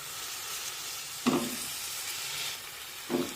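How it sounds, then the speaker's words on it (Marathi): Potato pieces sizzle in frying spice masala with a soft, steady hiss, broken by two short louder bursts of sizzle and stirring as the pieces go in, fairly quiet throughout. "आता यामध्ये बटाट्याच्या फोडी टाकूया"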